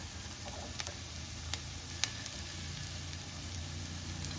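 Bell pepper sizzling in a pan of oil while cooking colourful cheese pasta, a steady close hiss with a few faint ticks and clicks, no talking.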